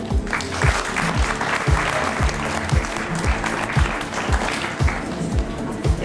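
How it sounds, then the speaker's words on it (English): At a church youth awards event, an audience claps loudly and steadily for an honoree, a thick sustained wash of applause heard close, with a rhythmic low thumping running underneath. "and give him one more round of applause."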